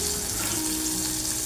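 Water pours steadily into a pot of green mango dal being cooked, a continuous close hiss and splash with a faint sizzle, heard alone.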